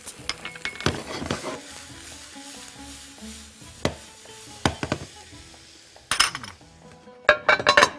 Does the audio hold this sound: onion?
yes